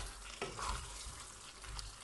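Courgettes tipped into a pan of frying mushrooms bring a faint, soft sizzle with a few light clatters of the vegetables landing and being moved about, quiet and close, no voices.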